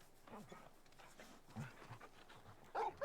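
Torgal, a large dog in Final Fantasy 16, pants softly with a couple of short whimpers, a brief louder yelp near the end, all quiet and close.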